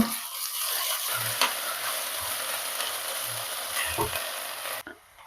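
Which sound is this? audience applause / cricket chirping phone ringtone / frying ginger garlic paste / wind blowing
frying ginger garlic paste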